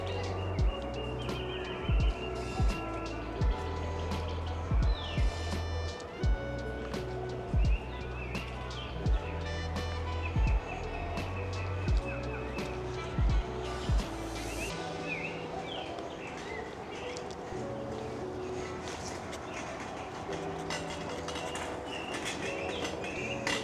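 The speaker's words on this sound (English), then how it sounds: "there's a lot of like small birds whistling." Small birds whistle and chirp in a bamboo park in Shanghai, with a dove cooing repeatedly amid a steady outdoor hum and no nearby talk.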